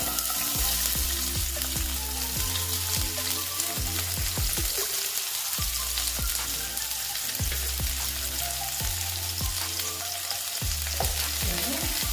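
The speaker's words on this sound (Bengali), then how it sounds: "পেঁয়াজটা দিয়ে দিলাম পেঁয়াজটা একটু ভাজা ভাজা হবে" Onions fry in hot oil for a Bengali fish curry with small bata fish, eggplant and potato. A loud, steady crackling sizzle is repeatedly broken by the scrape and clack of a spatula stirring in the pan. Nobody speaks.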